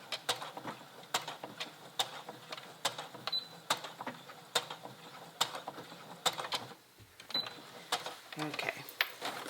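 A sewing machine backstitches over the metal zipper area of a pair of jeans. It gives a quick series of sharp mechanical clacks in a steady rhythm, close and moderately quiet, with a short pause near the end.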